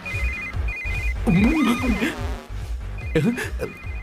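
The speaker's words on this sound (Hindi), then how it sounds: "इस वक्त दीदी का फोन।" A telephone ringtone rings in repeated electronic bursts across a Hindi film scene, with a voice speaking loudly over the middle and end of the ringing.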